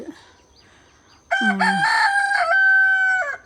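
After a moment of faint background noise, a rooster crows loudly and close by, one long, full cock-a-doodle-doo.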